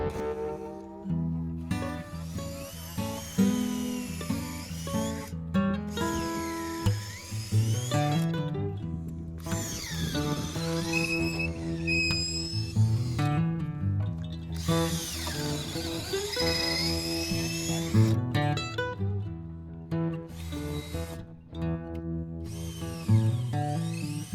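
Power drill driving fasteners during final assembly work, in loud close bursts of whirring that rise and stop repeatedly over about twenty-four seconds, with short gaps between runs and no talking.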